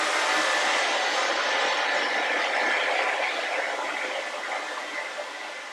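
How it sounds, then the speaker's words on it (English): A hair dryer blows steadily on an acrylic painting of cardinals in a winter scene, giving a loud, continuous airy roar that fades slightly toward the end. "I'm just going to blow dry."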